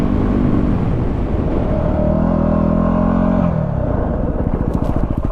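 A Yamaha WR250R motorcycle on supermoto wheels skids to a stop on a slippery road, the engine note dropping as it slows, then settling into a pulsing idle near the end.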